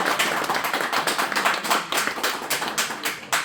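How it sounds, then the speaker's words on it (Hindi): Audience applause at a certificate distribution ceremony, a steady crowd of many hands clapping close by, with a slight swell near the end and no talk over it. "बहुत सारी तालियां आपके लिए।"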